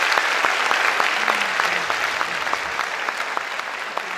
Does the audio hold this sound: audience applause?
yes